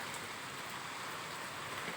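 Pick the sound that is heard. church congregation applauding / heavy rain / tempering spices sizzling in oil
heavy rain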